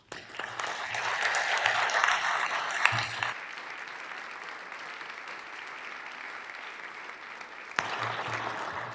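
Applause fills a South Dakota House of Representatives chamber as wrestlers are welcomed. It comes as a strong burst of clapping, then a quieter stretch of room murmur, then the clapping swells again near the end.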